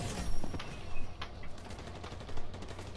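Gunfire in the Fortnite video game: several sharp shots crack out in quick bursts over steady game background noise, moderately loud and close, with no talk.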